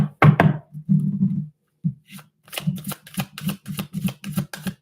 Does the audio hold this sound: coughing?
no